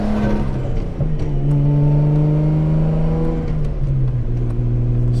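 A Nissan Skyline R32 accelerates along a back road, its engine note rising in steady harmonic sweeps heard from inside the car, loud and continuous for about five seconds with a brief dip near the start and no talking.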